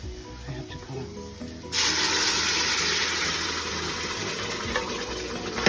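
Water is poured into a hot pan while cooking, a sudden loud hissing rush that starts partway through and stays steady to the end.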